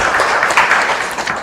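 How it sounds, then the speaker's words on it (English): An audience applauds at a hackathon ceremony, a steady wash of many hands clapping at moderate distance, continuous through the moment with no pauses. "A big round of applause for Mr. Smruti Ranjan Pradhan,"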